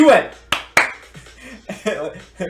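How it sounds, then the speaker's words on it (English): Two quick, sharp hand claps in the Danganronpa: Trigger Happy Havoc video game snap out about a quarter second apart, surrounded by voiced speech before and after. "He said that, and then quickly and sharply clapped his hands together."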